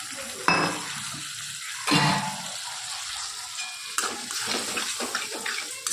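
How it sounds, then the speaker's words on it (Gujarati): Spice masala roasting in a pan with salt and a little water added, giving a soft, steady sizzle broken by several sharper stirring scrapes and clatters, close up and with no voices. "મસાલો સરસ શેકાઈ ગયો."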